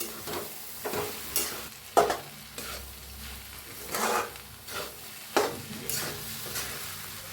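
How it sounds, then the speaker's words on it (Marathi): Poha (flattened rice) with salt, coriander and lemon juice is stirred in a pan, giving a run of soft scraping and tossing strokes in an irregular rhythm over a faint sizzle. "हलवून घेऊया पोहे"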